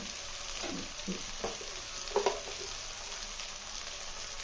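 Taro roots (chamadumpalu) frying in a pan are stirred now and then, a constant close sizzle broken by a few soft scrapes and clinks of the spoon, no talking.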